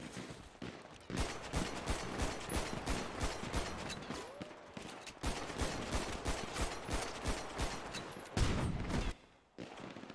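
Rapid bursts of video game gunfire crackle almost without pause for several seconds, loud and close, with a brief gap near the end before one last heavy volley.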